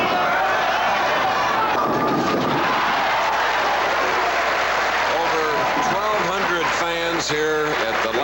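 Crowd cheering and applauding a strike at Landmark Lanes during a 1981 pro bowling tour match, a dense sustained roar under a commentator's voice.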